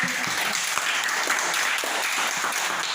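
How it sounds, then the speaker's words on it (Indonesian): A classroom of pupils claps for a classmate who answered a question, a dense, steady burst of hand claps lasting a few seconds, fairly close and without talk. "Bagus sekali, tepuk tangan."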